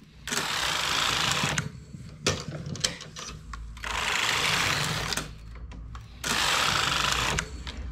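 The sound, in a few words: knitting machine carriage passing across needle bed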